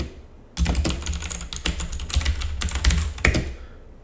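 Fingers type on a white computer keyboard close by, a rapid, uneven patter of crisp key clicks with a few louder strikes and no talking.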